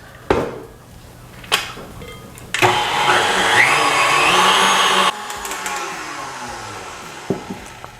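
An electric mixer whips cream for homemade pear ice cream, a steady whirring buzz rising in the middle of the clip, with clinks and knocks of the bowl before and after.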